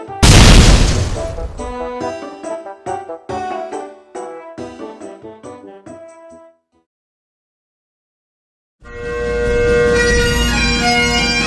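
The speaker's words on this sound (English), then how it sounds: "The bloody bomb!" A loud bomb blast opens with a deep boom, followed by a rapid string of bangs and a fading rumble. A short silence follows, then a broad roaring burst returns.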